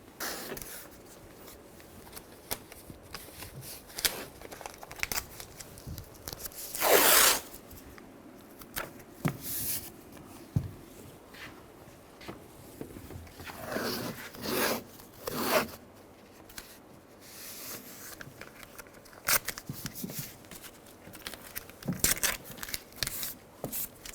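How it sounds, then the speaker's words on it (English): Tape being pulled and torn to hold up the window glass inside the driver side door of a 2008-2017 Buick Enclave, with sharp ripping bursts and rubbing scrapes spread irregularly across a quiet workspace. "And we're going to tape it up. Just tape it up so it doesn't fall."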